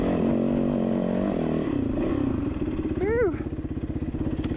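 Dirt bike engine revving and pulling on a rutted, rocky climb, a loud close motor drone that rises in pitch and then settles into a throbbing chug, with a voice speaking over it.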